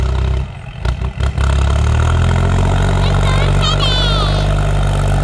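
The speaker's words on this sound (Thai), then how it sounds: "คลิปนี้พามาดูรถไถดันนาครับ" A New Holland TT 3.50 tractor engine running close up while pushing earth: a loud, steady diesel drone with some clattering at first, then a rising whine as the revs climb.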